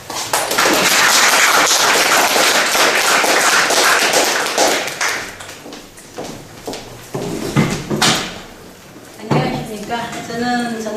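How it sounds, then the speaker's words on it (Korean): An audience applauds a visiting professor arriving to give a lecture, dense clapping for several seconds that thins out into scattered claps, thumps and room noise. "큰 박수로 맞아주시기 바랍니다."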